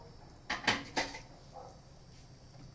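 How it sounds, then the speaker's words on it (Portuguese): A pot of chicken gizzards has its lid lifted off, giving a few sharp metallic clanks and scrapes close by in quick succession, then a softer clink, against a quiet kitchen background. "Vamos destampar a nossa panela."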